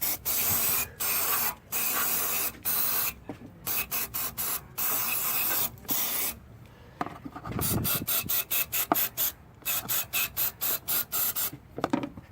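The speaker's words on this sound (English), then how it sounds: "And we'll spray it out some more." Aerosol throttle body cleaner sprayed into a Ford Mustang throttle body in short hissing bursts, some long and some quick, repeated close to the microphone with brief pauses between them.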